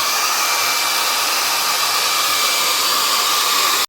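A hair dryer blowing steadily on a loose-style watercolor landscape painting, a loud continuous whirring hiss held close for several seconds before cutting off abruptly.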